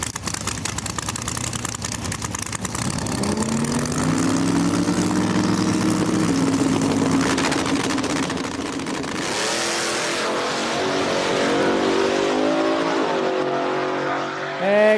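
Race cars in a small-tire drag race roar hard off the line and accelerate, a loud continuous engine howl with rising pitch sweeps across the whole stretch, up close and without talk.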